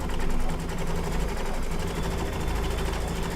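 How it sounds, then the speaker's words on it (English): An embroidery machine stitches a quilt design in white thread with a continuous, even mechanical hum and fast rapid needle chatter, close and steady throughout, with no voices. "Dawn, now it's stitching out white."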